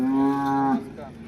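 A cow at the Modnimb cattle market gives a single loud, close moo lasting under a second, then fades into quiet background murmur.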